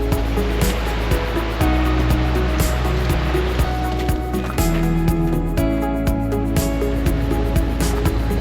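A creek runs beside a winter campsite through frozen, icy snow, a loud, steady rushing of water that fills the whole scene with constant close-up flow.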